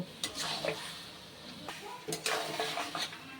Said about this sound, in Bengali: চর্বিগুলো দিয়ে কিন্তু আমি ভালো করে কষিয়ে নিচ্ছি